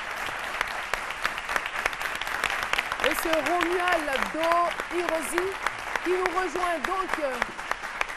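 A studio audience on a French television talk show applauds loudly and continuously as a guest arrives, while a host speaks over the clapping and brief tonal music notes surface midway.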